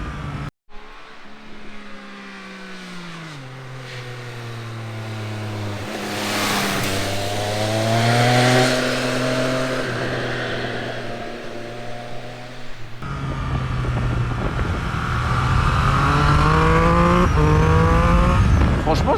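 A Triumph Speed Triple 1200 RS motorcycle accelerates hard on a race track, its engine note climbing steeply through the gears with loud rising whine, a shift break midway and sustained high-revving roar.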